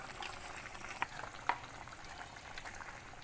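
Snake gourd kootu simmers in a pan, a steady soft bubbling with two small pops near the middle, close and quiet with no talk.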